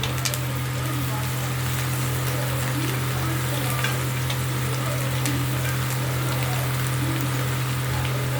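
Onions and coriander leaves frying in a pan, a steady close sizzle with faint crackle and a low constant hum beneath, continuous without a break.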